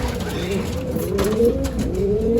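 Pigeons in a breeding loft coo close by, a continuous overlapping murmur of soft throaty calls swelling and falling.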